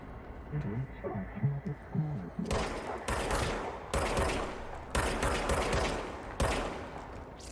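Gunfire from a weapon in the video game Control: after a stretch of speech, a series of loud, sharp bursts of shots repeats in quick volleys, each burst cutting off abruptly before the next.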